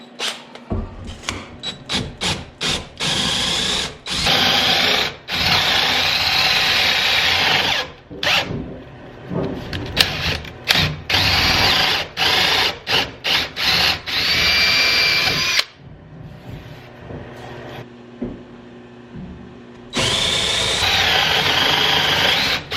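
A 1.25 inch Forstner bit drilling through scrap wood lumber, loud close power-drill whine in repeated bursts with short pauses between, cutting in and stopping many times.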